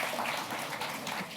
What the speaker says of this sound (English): Please, a round of applause for our speakers.